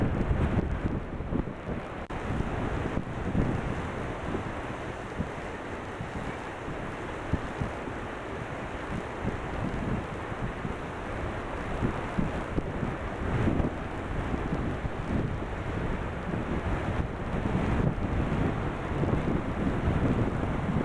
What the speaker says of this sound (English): I don't remember ever seeing a place where the waves broke twice on their way into the shore.